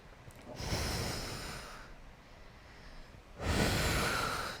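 A person exercising takes deep, audible breaths through the nose and mouth, two strong airy rushes separated by a quieter pause, close and clear with no talking.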